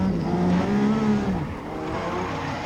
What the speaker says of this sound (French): la voiture part en glisse.